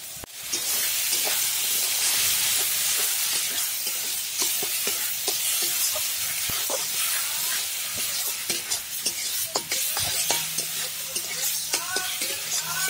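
Ground pointed gourd paste, seasoned with salt and turmeric, fries in a hot pan with a loud, dense, hissing sizzle, punctuated by frequent sharp spatula scrapes and clicks throughout.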